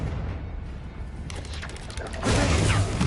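A Confringo blast spell in Hogwarts Legacy erupts into a loud, sustained crackling burst after a low rumbling buildup, with no voices.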